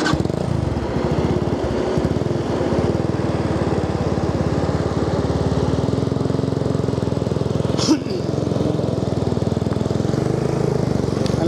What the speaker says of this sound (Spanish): Espero que no vibre mucho la motocicleta.